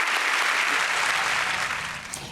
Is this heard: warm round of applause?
yes